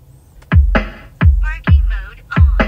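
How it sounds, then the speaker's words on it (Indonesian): Drum hits reproduced through a car audio system's mid-bass speaker: five sharp, punchy thumps with strong low-end body, spaced roughly every half second, playing alone and fairly loud. "Nah, ini jadi suara si drum dari mid bass kayak tadi."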